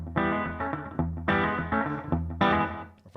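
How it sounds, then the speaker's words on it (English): An electric guitar plays short, sassy rockabilly phrases through a single slapback repeat echo with the reverb turned off. Each plucked note is answered by one quick, crisp repeat, and the phrases come in bursts, close and loud with no voice. "I have a single, kind of a rockabilly repeat"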